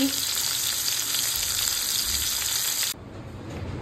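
Spiny gourd (kakrol) slices frying in a pan, a loud, even sizzle that runs continuously and then drops off sharply near the end, leaving a quieter hiss.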